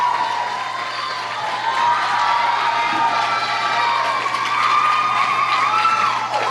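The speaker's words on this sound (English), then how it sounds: "Please give a round of applause for all of their help" Dense crowd cheering and shouting with steady applause from an audience at a school event, loud and continuous throughout, with high voices and whoops mixed in.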